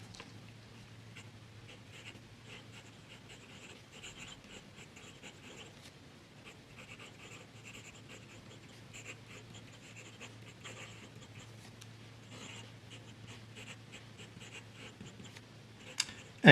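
An Omniflex flexible fountain pen nib on a small Ritma pen scratches faintly across paper in a steady, quiet, continuous rasp, alone with low background hum.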